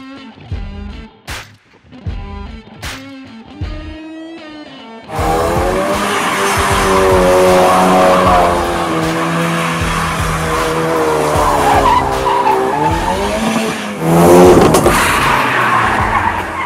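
A 2016 Ford Focus RS in drift mode, with its engine revving and tires squealing in long loud skids. Short bursts give way to a sustained screech that swells and fades over the engine note.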